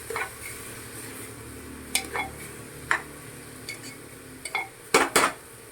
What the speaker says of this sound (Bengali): আর একবার একটু নাড়িয়ে নিলাম।